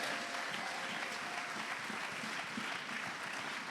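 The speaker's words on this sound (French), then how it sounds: "Est-ce qu'on peut l'acclamer?" A church congregation applauds at an Easter service, a steady, even wash of many hands clapping together, filling the space from start to finish at moderate loudness.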